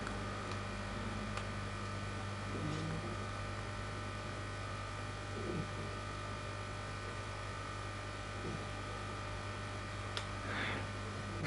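A steady electrical hum from a light fitting, low and constant throughout with faint clicks and small noises over it, no one speaking.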